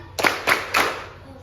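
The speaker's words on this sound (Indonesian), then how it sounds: "Tepuk fokus" A school class does a rhythmic focus clap: three sharp, evenly spaced group claps ring out close by, each fading quickly.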